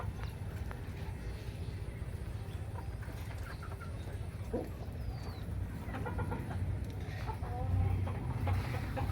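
Free-range chickens raised under open sky on a muddy, rain-soaked farm cluck and call amid busy outdoor noise, with scattered bird sounds and some distant clatter.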